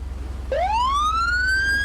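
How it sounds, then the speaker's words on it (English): An emergency vehicle siren in the Roblox game starts abruptly and rises in a steady wail, loud and alone over a low engine hum. "Let's go ahead and hit lights and sirens"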